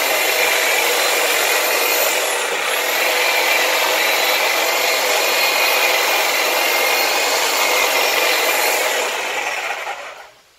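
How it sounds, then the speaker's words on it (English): A power tool trims an olive bonsai stump, a loud continuous high-pitched whirring buzz with a rough grinding texture that holds steady and then winds down at the end, close up with no talk. "I'll just spin it around and keep trimming."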